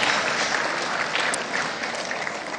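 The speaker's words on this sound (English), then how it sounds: "we're going to clap" Audience at a high school boosters award ceremony breaks into steady, dense applause, a full room clapping continuously at close range with no pauses.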